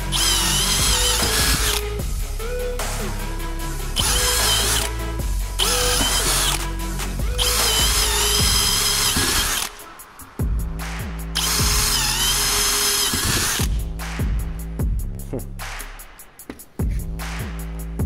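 Close, loud bursts of a Bosch GSB 185 Li cordless drill boring wood in second gear with a wood bit, motor whine rising and stopping repeatedly, with ratcheting clicks near the end.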